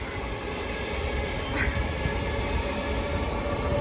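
A train rolls past on a street, producing a steady loud rumble and rail noise that holds for several seconds, with a brief faint high squeal partway through.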